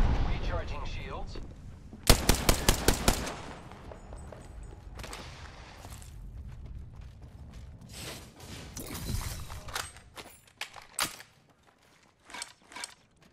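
Gunfire in the battle royale game Apex Legends: a burst of rapid automatic shots, then scattered single cracks and short volleys amid mechanical clicks and clatter, with a voice talking at times.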